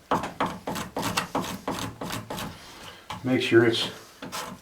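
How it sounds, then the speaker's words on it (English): Cabinet scraper drawn over the handle of a wooden toy, a rhythmic series of dry rasping strokes close by, with a brief spoken phrase over the later strokes. "we can kind of get after this handle area with our cabinet scraper."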